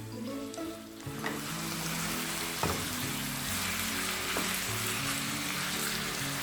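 Chicken fries in a pan over high-to-medium flame, a close, steady crackling sizzle with a few scraping stir strokes and clacks breaking through.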